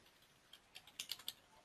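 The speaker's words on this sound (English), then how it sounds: "If I start typing, call 269-555-1212, there's my number." Typing on a computer keyboard in a quiet room, a short run of light, close key clicks that grows into several sharper taps toward the end.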